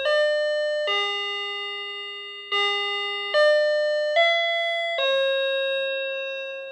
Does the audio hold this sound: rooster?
no